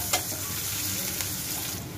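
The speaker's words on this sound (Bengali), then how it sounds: "আমার পেঁয়াজটা ভাজা হয়ে গেছে" Sliced onions fry in a pan on a stove with turmeric and green chillies, giving a soft, steady sizzle that stays faint and even for a couple of seconds with no talk over it.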